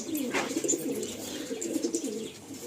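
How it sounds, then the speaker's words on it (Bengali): Madrasi and Giribaj pigeons in a loft collection at Magrahat coo softly and repeatedly nearby, a low murmuring burble with a few light chirps and no talking. "আসুন আমরা এরপরে কিছু পায়রা আমরা সরাসরি আপনাদেরকে দেখিয়ে দেবো"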